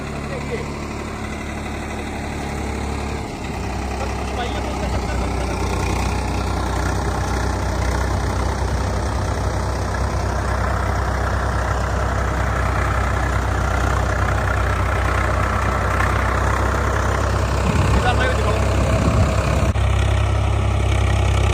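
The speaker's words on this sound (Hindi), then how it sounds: "RPM में 855 ट्रैक्टर है भाई, बच्चा 855" An 855 tractor engine idles at 1400 RPM with a 9-foot rotavator attached, giving a loud, steady low rumble with mechanical rattle that continues without letup throughout.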